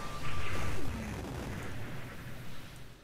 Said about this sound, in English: We were in the middle of an explosion!